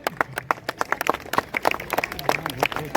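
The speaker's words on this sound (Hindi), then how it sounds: "तालियां बजनी चाहिए" Audience applause at a school Republic Day program, a quick patter of many hands clapping with dense, irregular claps over about three seconds, fairly close and without talk.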